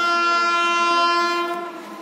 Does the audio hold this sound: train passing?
yes